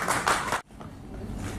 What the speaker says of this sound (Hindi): जोरदार तालियों से जरूर स्वागत कीजिए।